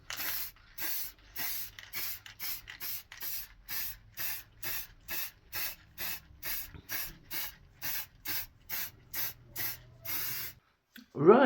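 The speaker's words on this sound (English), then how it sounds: "So we're going to spray 3 or 4 coats on" Clear gloss lacquer varnish is sprayed onto routed plywood in a long series of short, even aerosol bursts, about a second each with brief gaps, close and steady, then the spraying stops.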